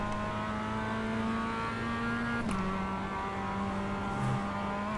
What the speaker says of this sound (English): A group of faster cars approaching. And I'm going to be hearing that the whole time